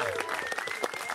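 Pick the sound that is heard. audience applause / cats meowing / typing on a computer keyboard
audience applause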